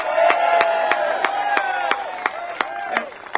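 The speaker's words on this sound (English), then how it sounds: "how about a round of applause for the Georgians and the Dustin Emmons Society" Crowd at an outdoor political rally applauds and cheers steadily, a dense wash of clapping with occasional whoops and sharp claps standing out over the roar.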